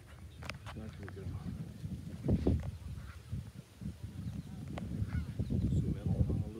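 Geese and ducks honk and call in a park with water, loud bursts scattered among continuous chatter and people talking nearby.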